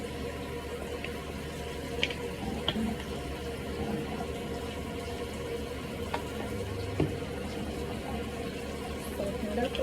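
Running water pours onto a dog to soak her coat before shampooing, a steady close splashing gush with occasional small knocks and no clear speech.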